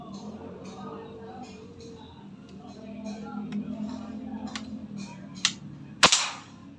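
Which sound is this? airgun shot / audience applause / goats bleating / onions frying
airgun shot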